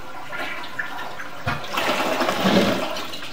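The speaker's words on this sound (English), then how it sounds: "flush the toilet please" A toilet flushes in a bathroom being remodeled, a surge of rushing, gurgling water that swells after a quiet start and stays loud and close to the end, with no one talking.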